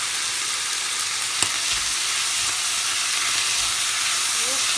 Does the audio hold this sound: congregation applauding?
no